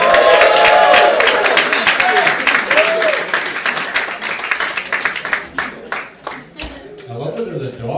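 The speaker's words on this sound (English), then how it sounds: "Everybody, start clapping right now for your first comic of the night." Comedy club audience clapping and cheering to welcome a comedian to the stage, loud dense applause that thins into scattered claps toward the end, with a voice over it early on.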